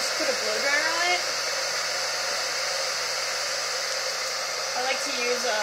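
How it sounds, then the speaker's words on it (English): Blow dryer running steadily and close up, drying hairspray on an Elsa wig, a constant loud whooshing hiss with only faint shifts in tone throughout. "I like to use the blow dryer to have the cool and the heating motion"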